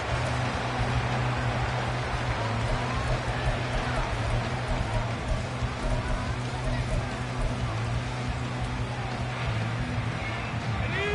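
Rain pours steadily during a football game in the second half, a continuous broadband hiss of falling water with a low, constant rumble underneath and no break.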